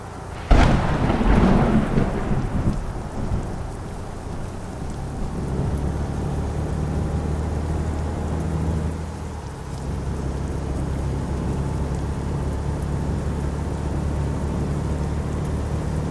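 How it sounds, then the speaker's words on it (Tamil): Rain and thunder in Euro Truck Simulator 2: a sharp thunderclap near the start rolls into rumbling, then heavy rain keeps hissing steadily over a low engine drone. "சவுண்டு பாருங்களேன், மழை சவுண்டு."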